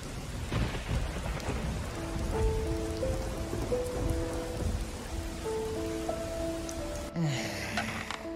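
Heavy rain pours steadily in a Cyanide and Happiness cartoon, a dense hiss joined by low rumbles of thunder, then cuts off abruptly near the end.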